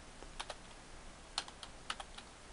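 A computer keyboard clicks in short irregular bursts of keystrokes, close and fairly quiet, with pauses between taps while someone writes Java code; no talking.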